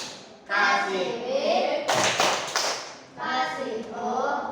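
A short burst of rhythmic group clapping from children in a primary school classroom, loud and close for about a second, set between stretches of a teacher and pupils talking.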